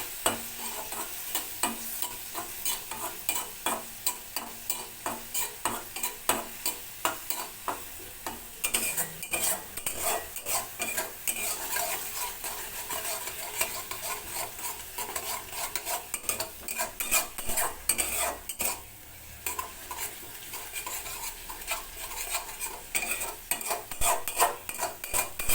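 Spice masala sautés in a pan for an egg dish as a spatula scrapes and stirs in a quick, regular rhythm over a light background sizzle, with no talking.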